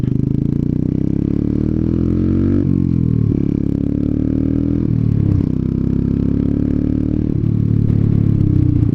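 A motorcycle engine drones close and loud during a ride, its pitch climbing and then dropping sharply with each quick early upshift, repeating several times in a steady rhythm.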